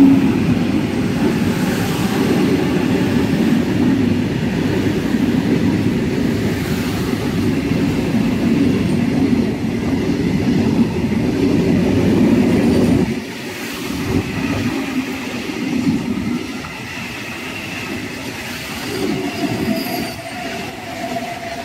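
Inside a 3rd AC coach of the Tirupati Express on the Puri to Tirupati run, a loud, continuous rumble of wheels and carriage persists, then drops to a quieter, uneven roll partway through, with faint squeals.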